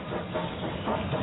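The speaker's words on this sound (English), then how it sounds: "That was a train. Listen." A steady, rumbling steam train sound with a hissing wash, heard from a moderate distance, continuous and without voices.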